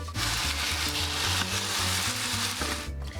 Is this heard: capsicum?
yes